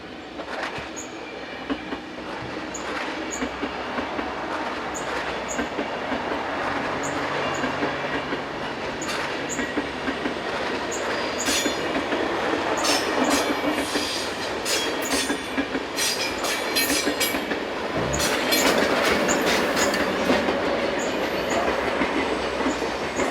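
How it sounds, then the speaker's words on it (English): A passenger train pulls out of a European railway station, its wheels clattering over the rails in a rhythmic clickety-clack that grows louder and fuller, with occasional squeals and knocks. "The same train departs from the north of the station just a few minutes later."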